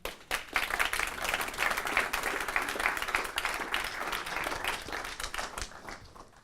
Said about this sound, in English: Another warm round of applause for Hala, ladies and gentlemen.